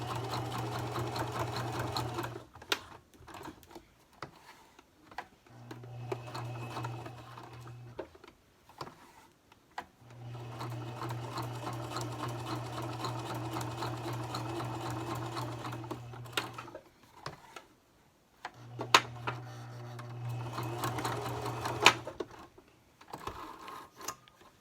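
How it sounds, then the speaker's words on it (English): A sewing machine stitches a strap onto a bow tie in four steady, rapid bursts separated by short pauses, the motor hum clear and close with no talking. "when you put your strap around it, it covers the threads"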